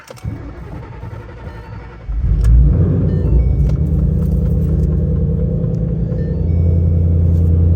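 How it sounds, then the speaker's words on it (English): A car engine cold-starts after a brief crank, then settles into a loud, steady, deep rumbling idle that carries on to the end with no talk. "let's go ahead and get a cold start"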